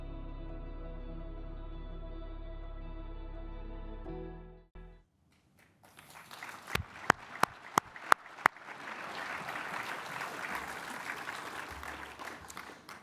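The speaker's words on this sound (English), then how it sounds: "you don't often get them clapping a video" A steady tone cuts off, and after a pause an audience breaks into sustained applause with a few sharp loud claps near the start.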